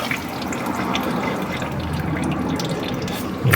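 Coolant and water flush out of an Alfa Romeo engine as a steady splashing, trickling stream, continuous and close with small drips and spatters layered through it.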